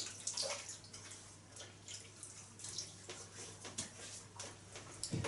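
Tap water runs steadily into a basin while a face is wetted before shaving, a close, continuous splashing and trickling with small irregular splashes and no talking.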